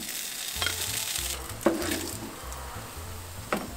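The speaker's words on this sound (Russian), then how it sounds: "Еще жарим ветчину." Ham sizzles steadily in a hot pan, with a few sharp clinks of a utensil scraping and tapping the pan.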